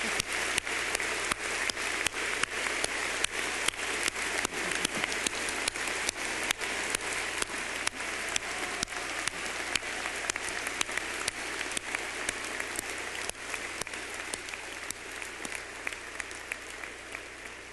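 A large commencement crowd at a college graduation ceremony keeps up long, dense applause, a steady wash of many hands with a few louder nearby claps standing out, lasting well over fifteen seconds.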